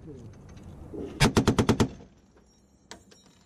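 Browning .50 caliber machine gun firing at a vehicle silhouette target on a range, a sharp burst of about six heavy, evenly spaced rounds, then quiet with a faint later report and light talk around.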